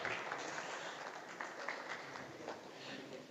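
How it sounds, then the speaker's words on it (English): Audience applause at a drone and electric-vehicle event in Belagavi, a steady wash of clapping from a seated crowd lasting the whole stretch, moderately loud and even. "I think this, requires a round of applause"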